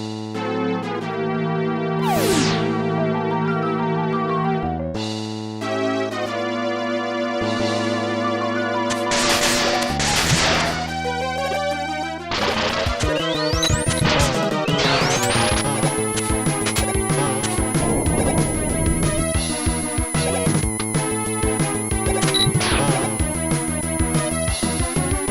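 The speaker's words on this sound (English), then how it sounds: "Does that music sound familiar? Well, that's because it's music from the first stage of Ghosts and Goblins" First-stage music from Ghosts and Goblins, heard as a secret track in Mega Man 7 on the SNES: a busy chiptune-style melody with layered synth lines and percussion, loud and continuous without talk.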